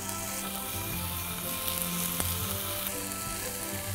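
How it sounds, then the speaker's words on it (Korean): Mushrooms and cherry tomatoes stir-fry in a pan with pepper and dried herbs, giving a steady close sizzle with soft stirring and no voices. "그리고 말린 허브 믹스를 넣어가면서 볶아주세요"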